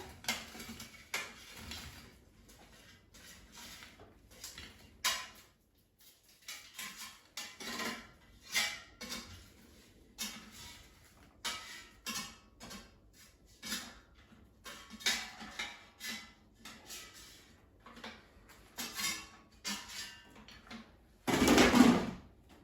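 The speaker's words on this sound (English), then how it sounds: "Let me take them out of the air fryer" Roasted red skin potatoes come out of an air fryer with scattered clatters of the basket, soft scraping and utensil knocks in uneven bursts, close and moderately loud, ending in a louder rattle.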